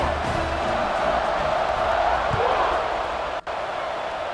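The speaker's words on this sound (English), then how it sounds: "this crowd is buzzing after that last score" A dense stadium crowd at a college football game between Colorado and Florida roars and buzzes steadily after a score, a broad sustained wash of massed voices with one brief dropout near the end.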